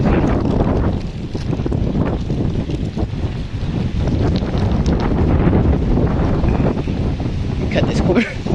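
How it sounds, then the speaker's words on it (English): Strong outdoor wind blows hard and steadily, roaring and buffeting the microphone for the whole stretch, with a voice faintly buried beneath the rumble. "Where this wind is coming from, it's so doggone windy."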